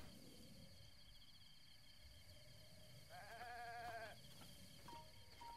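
A goat in the video game Zelda: Breath of the Wild gives a short wavering bleat at middle distance, standing out for about a second over steady game ambience and a faint background hum.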